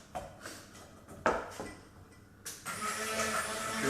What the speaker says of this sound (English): I'm going to start blending up my